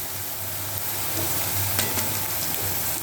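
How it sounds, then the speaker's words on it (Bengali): Whole garam masala frying in hot oil with onion and chilli, a steady close sizzle and crackle holding evenly throughout with no voices. "গরম মশলাটা আমি তেলের সাথে আর পেঁয়াজ লঙ্কার সাথে ভেজে নেব।"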